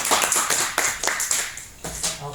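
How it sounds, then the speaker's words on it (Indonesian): Scattered clapping for a student in a chemistry microteaching class on electron configuration, a quick run of uneven claps lasting a couple of seconds, with a little room noise underneath. "Tepuk tangan untuk Rian."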